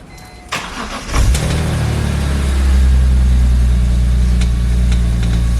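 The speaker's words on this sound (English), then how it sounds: "So I put the stock exhaust back on," A BMW E46 M3 on its stock exhaust cranks with a couple of clicks, fires up with a loud flare, then settles into a steady, smooth idle, heard close and alone.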